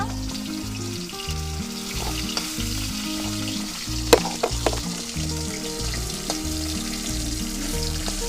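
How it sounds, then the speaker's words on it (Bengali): Bata fish frying in oil over low heat, a steady close sizzle with soft crackling and occasional stirring scrapes, broadband and continuous throughout. "অল্প অল্প জাল দিয়ে সুন্দর করে মাছগুলো ভেজে নেব"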